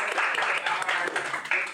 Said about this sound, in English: Can y'all do a round of applause for folks like